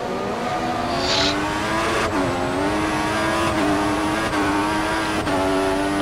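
McLaren Formula 1 car from the 2014 season, in a racing video game at the Chinese Grand Prix, revving hard out of a corner, its high engine note climbing through quick gear shifts, loud and close.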